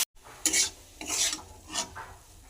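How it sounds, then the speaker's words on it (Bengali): Cabbage with peas frying in a pan, stirred in several quick scraping bursts with a soft sizzle between strokes, close and moderately loud. "কপিটা ভাজি করে নেব"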